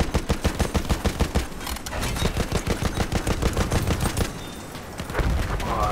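A mounted machine gun in the Battlefield 1 beta fires in rapid, evenly spaced bursts with short pauses between them. The shots are close and punchy, with a booming low end.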